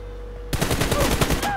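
Gunfire in the mobile battle royale game BGMI breaks out suddenly after a quiet hum, a rapid burst of loud automatic shots lasting about a second.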